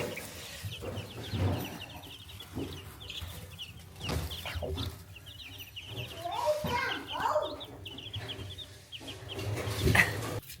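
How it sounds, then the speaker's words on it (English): Chicks and chickens at a farm expo give repeated high peeping and clucking, near and fairly soft, over a busy background of voices and crowd noise that includes children talking. "I'm trying to check on the chicks and Bluebell has found my finger."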